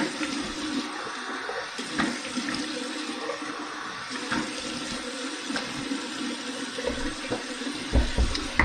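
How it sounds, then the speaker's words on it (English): Cold water runs steadily from a tap into a sink after a shave, a continuous splashing rush heard alone at low volume for several seconds. "We're going to do my cold water rinse right now."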